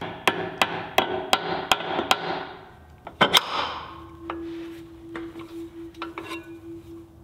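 A hammer taps new bearings into a band saw wheel: a run of about six evenly spaced metallic knocks, then a few irregular heavier strikes, close and clear with a faint ringing tone afterward.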